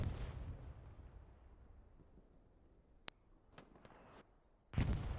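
Explosions from a bombing run in the Hell Let Loose video game: a heavy rumbling blast that fades out, a few sharp distant cracks, then another loud burst near the end.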